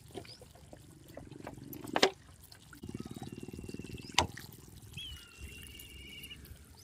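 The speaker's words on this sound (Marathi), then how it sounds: "तर आता पाणी वतून घेते त्याच्यात" Water is poured over fish in a cooking pot outdoors, a nearby rippling trickle lasting a couple of seconds between a few sharp knocks, with quiet background sounds.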